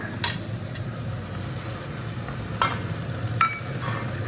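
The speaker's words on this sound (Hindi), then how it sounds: "अब डालूंगी इसमें मसाले।" Spices stirred into a sizzling tomato, cumin, asafoetida and garlic-ginger paste for rajma, giving a steady soft frying hiss with a few brief scraping stirs, close and fairly quiet, no talking.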